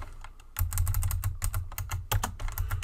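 Someone types HTML code on a computer keyboard, a close, fast, irregular run of clicking keystrokes that starts after a short pause and continues with a brief break midway, with no voices.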